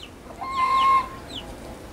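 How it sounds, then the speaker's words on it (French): A rooster in an outdoor teaching-garden enclosure gives a short, nasal cluck and call at close range, rising to one sustained note before trailing off, with quieter bird sounds around it. "On a un coq"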